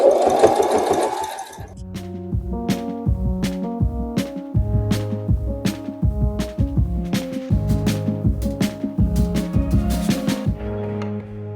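A sewing machine stitching clothesline rope into a basket, running in quick rhythmic bursts of repeated needle thumps with short pauses between runs, close and loud, no speech.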